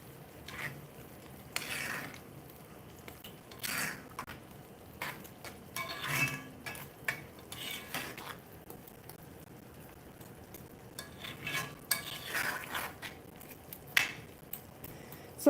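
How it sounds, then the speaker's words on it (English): A spoon stirs mixed vegetable curry gravy in a pan, giving soft, irregular scraping and wet squishing taps in quiet bursts, with faint clinks against the metal between pauses. "Just stir it really well."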